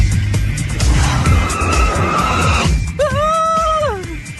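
A car speeds off on a test drive from a showroom: a loud engine roar with skidding, then a sharp rising-and-falling tire squeal near the end, close and with no talking.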